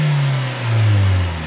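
Suzuki Swift Sport engine with variable valve timing revving hard close up, a loud sustained droning roar whose pitch dips briefly and climbs again before cutting off abruptly.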